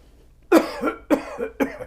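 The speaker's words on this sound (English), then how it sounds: "the way to cough is like this" Three sharp, muffled coughs into the elbow come close up in quick succession, each followed by a short breathy tail.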